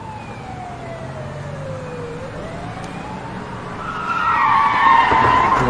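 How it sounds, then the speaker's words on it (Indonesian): An ambulance siren wails in slow rising and falling sweeps, then a car rushes close by with a swelling roar at the end. "Masa nggak dengar suara ambulan?"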